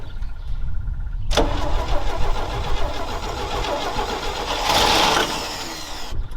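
After a brief quiet, an old truck unused for years starts abruptly and keeps running, loud and close, its engine swelling slightly near the end before cutting off.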